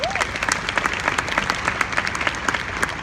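Audience applause at a stage event, a dense, loud burst of many hands clapping steadily throughout.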